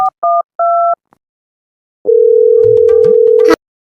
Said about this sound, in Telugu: స్వీట్కి ఫోన్ చేయక చాలా రోజులు అవుతుంది, ఒకసారి చేద్దాం.